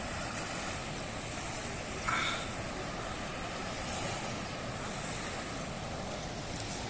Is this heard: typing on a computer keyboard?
no